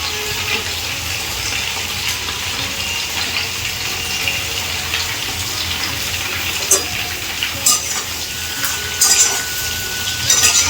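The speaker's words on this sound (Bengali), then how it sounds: "ফুলকপিটা আমার হালকা ভাজা হয়ে গেছে এবার ফুলকপির মধ্যে আলুগুলো দিয়ে দেবো" Potatoes being added to lightly fried cauliflower in a pan give a steady, dense hiss of sizzling oil that runs throughout, with a few sharper crackles and pops near the end.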